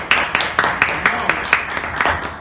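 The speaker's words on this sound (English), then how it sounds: "Let's give a round of applause to Sylvie and to the" Clapping at an agricultural research talk on open-source data networks: rhythmic, fairly loud, with distinct hand strikes repeating at a steady pace, like a few people clapping in time rather than a full crowd.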